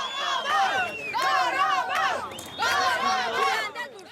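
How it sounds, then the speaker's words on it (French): Crowds in the streets of Fuzuli cheer and shout in waves of raised voices, loud and close, several bursts with brief pauses between them. "c'est toute la population qui sort dans les rues et applaudit"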